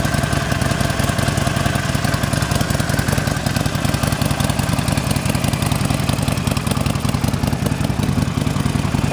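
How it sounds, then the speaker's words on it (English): A 2019 Harley-Davidson Sportster Forty-Eight's 1200cc Evolution V-twin with chrome exhaust idles steadily up close, a loud, continuous low rumble with an even throbbing pulse and no voices. "This bike features a 1200cc Evolution engine with a 5-speed transmission"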